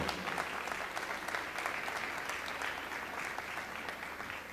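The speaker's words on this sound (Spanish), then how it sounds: "Un aplauso enorme para ellos." An audience at a critical-thought forum applauds panel speakers, a dense, even wash of clapping that carries on steadily at moderate volume with no voices over it.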